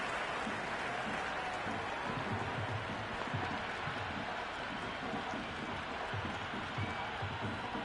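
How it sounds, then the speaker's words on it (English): Cricket crowd in a PS5 game of an India versus South Africa one-day international, a steady dense wash of cheering and applause-like roar throughout, loud and unbroken with a low rumble beneath. "There's an almost tangible fervour throughout the crowd at the moment."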